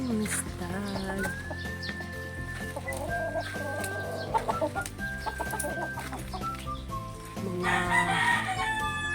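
Gamecock stags and a broodcock crow and cluck in a Philippine poultry yard, with several crows and clucks close by while someone speaks over them in Filipino.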